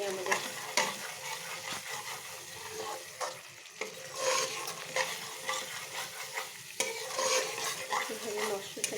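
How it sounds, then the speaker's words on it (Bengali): Spice paste for an aar fish curry frying in a pan, a dense continuous sizzle with frequent scraping stirs of a spoon across the pan, fairly close and steady with no voices. "এভাবে মশলাটাকে বেশ লাল করে কষিয়ে নেব।"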